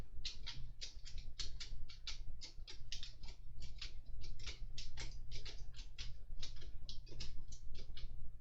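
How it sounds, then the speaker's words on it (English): A screwdriver with an Allen key bit turns a small screw into a model Terminator part, making a quick run of faint, close ticking clicks over a low steady hum. "I'm going to use my Oreo screwdriver with an Allen key end on it, and we'll screw that into place"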